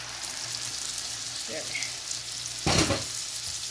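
Chicken sizzles steadily in hot oil as ground spices go in for a Pakistani malai chicken, with a brief louder burst of crackle partway through over a low background hum.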